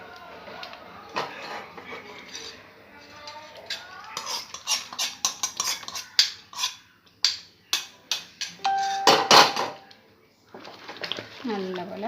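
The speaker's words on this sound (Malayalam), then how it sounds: "നല്ലപോലെ ഇളക്കാം." A spoon scrapes and clinks against a pan while Tirunelveli halwa with cashews is stirred, in a series of sharp metallic taps and scrapes, with a voice speaking over it.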